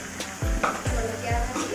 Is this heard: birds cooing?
no